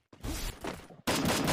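Rapid gunfire from the mobile shooter game Free Fire, two dense loud bursts back to back with a brief gap between, close and continuous.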